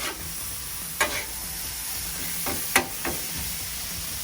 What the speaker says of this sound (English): I just want to get a good sear on this burger.